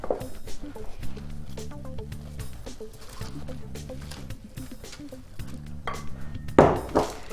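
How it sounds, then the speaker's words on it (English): A metal baking sheet clinks and clatters as it is handled on a kitchen counter, with a run of light metallic knocks and scrapes and a louder clank near the end. "Let me just get the baking sheet."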